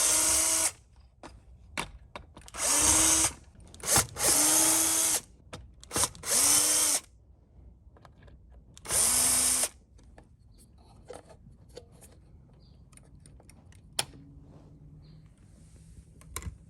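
A power screwdriver backs screws out of a Roomba 692 robot vacuum during a teardown, five short loud whirring bursts in quick succession, then quieter handling clatter.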